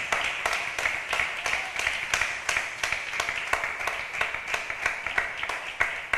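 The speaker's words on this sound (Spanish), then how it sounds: "Da un aplauso bien alegre para el Señor Jesús." A church congregation at an IPDA sermon claps joyfully for the Lord Jesus, a rhythmic, evenly timed beat of many hands in unison, steady throughout and without speech.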